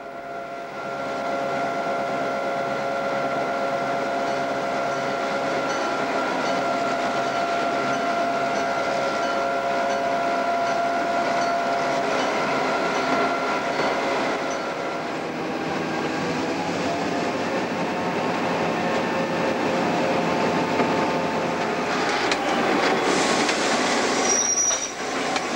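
Algoma Central Railway train cars roll steadily along the tracks with a continuous rumble, squealing wheels and faint clacking, loud and close throughout.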